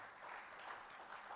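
An audience claps at an engineering lecture on Ghana's natural gas pipeline infrastructure. The applause is brief and faint, a soft continuous patter of many hands.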